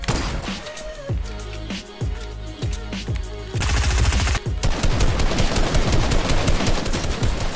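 Rapid automatic gunfire in the video game Fortnite, a dense continuous burst of shots that grows louder and fuller partway through, heard alone with no speech.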